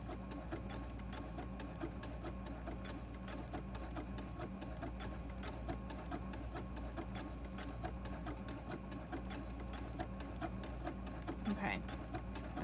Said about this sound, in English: So I'm actually going to go over my stitching here just to sort of anchor everything in place.